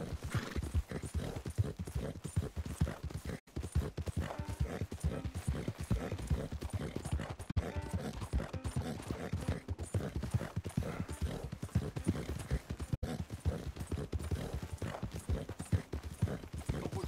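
Horse hooves clip-clop steadily in the video game Red Dead Redemption 2, a fast, even rhythm of hoofbeats that runs throughout, fairly close, with faint game sounds and a few brief gaps.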